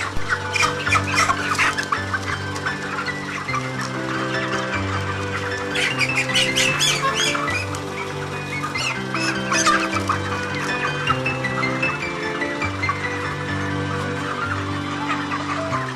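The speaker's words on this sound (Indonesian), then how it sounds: "Setelah itu kita menangkap ayam yang akan ditimbang secara acak." Broiler chickens cluck and squawk in agitated bursts as they are caught for weighing, several birds close by, with scattered sharper cries and a low hum underneath.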